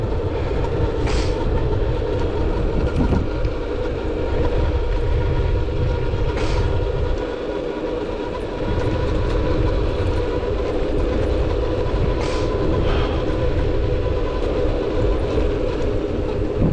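Railway wagons roll past on a track on a windy day, a loud continuous rumbling roar with periodic clickety-clack bursts from the wheels passing rail joints, close by and sustained throughout.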